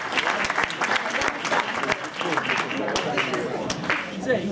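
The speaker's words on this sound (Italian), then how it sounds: "Applauso" An audience at an Italian political meetup candidates' evening breaks into applause, a lively mass of hand claps with some sharper individual claps standing out.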